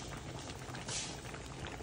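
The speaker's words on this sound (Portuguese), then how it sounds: "Já começou a borbulhar." Bananas boiling in a pot on the stove, a dense, steady bubbling and gurgling heard up close with no voices.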